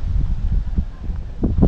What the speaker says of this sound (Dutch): Maar je komt hier op de open vlakte en dan komt hij over het water heen. Nou, dat is een aardig windje hoor.